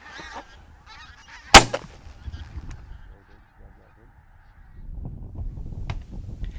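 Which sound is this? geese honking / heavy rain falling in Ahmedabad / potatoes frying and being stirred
geese honking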